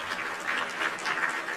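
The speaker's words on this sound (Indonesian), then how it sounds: "Kita berikan tepuk tangan untuk Abi Idam dan keluarga" An indoor audience applauds in a dense, even patter of many hands, heard at a moderate level without speech.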